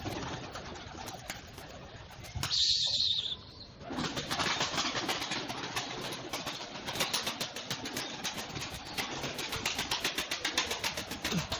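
Rango pigeons cooing and calling as they are released to fly, with a burst of flapping wings early on and steady bird calls continuing throughout at moderate loudness.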